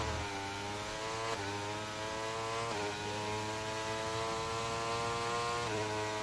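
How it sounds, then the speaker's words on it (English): A high-pitched racing motorcycle engine in a video game whines steadily, its pitch dipping briefly at gear shifts before climbing again, loud and continuous throughout. "You can hear those revs picking up"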